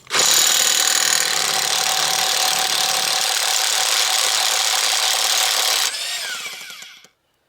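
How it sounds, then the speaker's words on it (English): An impact wrench rattles loose an axle nut on an Envoy or Trailblazer with a 36 socket, a loud steady buzzing burst lasting several seconds before tapering off. "go ahead and break this axle nut loose"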